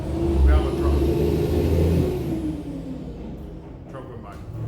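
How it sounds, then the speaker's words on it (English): A truck rumbles past outside, loud low engine noise swelling early and then fading into the distance while someone speaks briefly over it. "truck went by."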